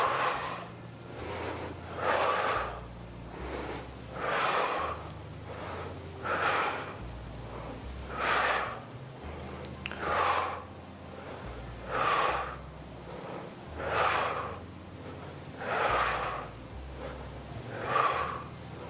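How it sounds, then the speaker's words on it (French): Steady, audible breathing during a bodyweight forearm exercise, with about ten slow, even cycles of inhaling and exhaling, close to the listener and with no talking. "On inspire, on expire."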